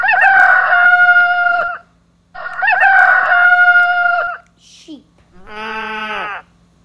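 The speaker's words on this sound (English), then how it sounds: "Rooster." A rooster crows loudly and close by, two long full calls in a row, followed by a shorter squawk and then a bleating cry.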